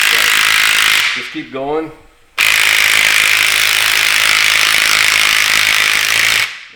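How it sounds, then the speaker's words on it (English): Socket tool running on the top lock nut of a Ford Raptor shock absorber, a loud sustained whirring buzz that stops briefly while someone speaks, then starts again and runs steadily before cutting off. "I'll tighten it again, and it hits that bushing"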